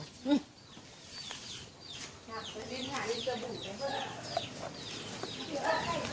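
Chickens cluck and chatter continuously around a rural Thai farmhouse, moderately near, with occasional sharper calls and some background noise.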